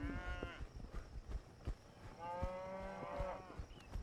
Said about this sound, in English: It's hard to drive cattle up a hill